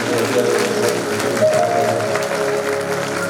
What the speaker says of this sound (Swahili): Unaweza ukampigia Yesu makofi.